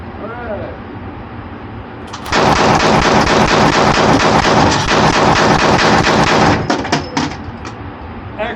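Hand-cranked Gatling gun firing a loud, rapid, continuous string of shots at close range for about four and a half seconds, then a few scattered final shots and echoes trailing off.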